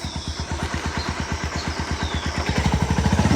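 A motorcycle engine idles close by with a steady, rhythmic low thumping pulse that grows a little louder and faster toward the end.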